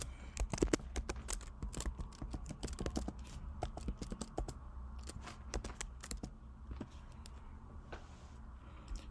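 A username and password are typed on a computer keyboard during an online Canadian study permit sign-in, with rapid, close key clicks in uneven bursts that thin out toward the end, and no talk.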